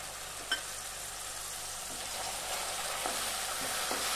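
Tomato paste sizzles in a pan with drumsticks and potatoes, a steady hissing fry with a few soft stirring scrapes and one brief clink near the start.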